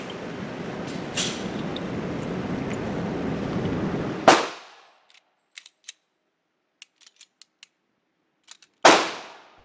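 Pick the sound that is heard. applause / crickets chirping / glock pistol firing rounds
glock pistol firing rounds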